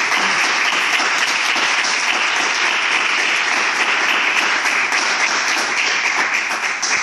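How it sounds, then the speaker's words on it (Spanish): Audience at a Kingdom Hearts talk at the Salón del Manga de Torremolinos convention applauding the speaker, a dense, steady wash of many hands clapping that holds loud and even throughout, with no talking over it. "Un fuerte aplauso para Sergio."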